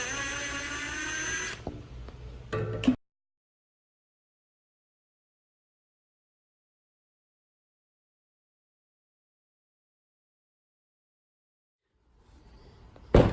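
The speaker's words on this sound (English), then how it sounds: "all you have to do is just unscrew those 4 screws and that will get the seat out" Power drill backing out the four screws holding a round bar stool seat, a dense whirring burst with a couple of short clicks in the first three seconds, then silence until a faint return of tool noise at the very end.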